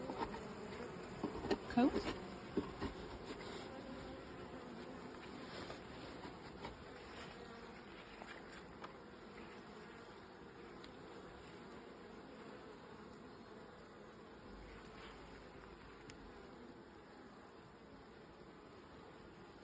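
Honeybees buzzing at an open beehive during a hive inspection, a constant low drone of many insects close by, with a few brief sounds of handling and a couple of quiet spoken words early on.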